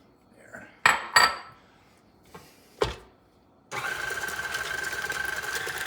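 An electric mixer creams a thick banana bread batter of buttermilk and baking soda. A few clanks of utensils against the bowl come first, then the mixer switches on with a close, steady whir.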